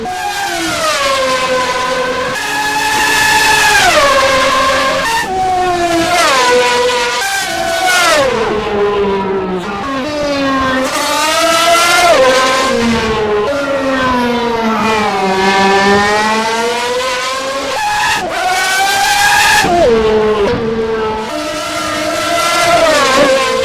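A 1991 Formula 1 car from the ASR Formula mod laps a track in rFactor 2, its loud, high-pitched engine wailing continuously as it climbs through the revs and drops sharply at each gear change.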